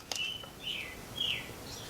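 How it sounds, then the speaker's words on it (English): A single loud bird sings outdoors at about seven in the evening, giving three short, high whistled phrases spaced apart over a soft background hiss. "That is one loud bird."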